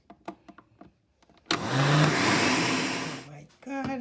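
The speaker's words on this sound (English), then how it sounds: "In the blender to get more smoother," A kitchen blender whirs loudly for about two seconds while blending custard apple and peanut juice. Brief speech comes before the motor starts, and a voice speaks again after it stops.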